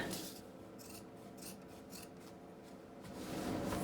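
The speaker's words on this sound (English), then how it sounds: "you're just going to cut off all the excess" Scissors snipping away excess plaid flannel fabric while trimming a strip for a shirt, heard as steady close rasping cuts with a few sharper snips, fairly quiet with no talking.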